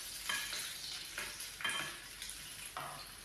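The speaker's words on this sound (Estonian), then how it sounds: "Ja praeme need sibulakotletid mõlemalt poolt ilusaks pruunikaks." Onion patties fry in a pan with a soft, steady sizzle, broken by several scraping stirs or turns of a utensil; quiet and close, no talking.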